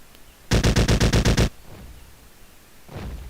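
An automatic gun in the Jurassic Park: Trespasser video game fires one loud rapid burst of about nine evenly spaced shots, followed by quieter game ambience and a faint rustle.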